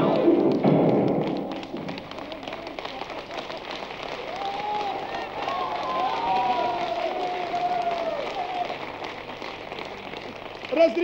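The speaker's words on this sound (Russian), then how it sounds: "Разрешите считать ваши аплодисменты за одобрение проекта резолюции." An audience applauds at a stage reading by Alexander Filippenko, a dense and steady patter of many hands clapping that lasts about ten seconds, with a voice faintly audible partway through.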